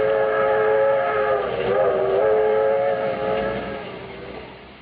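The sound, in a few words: train running, 20th Century Limited, radio drama effect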